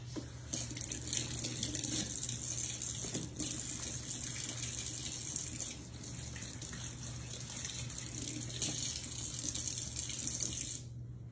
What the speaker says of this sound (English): let me give my hands a wash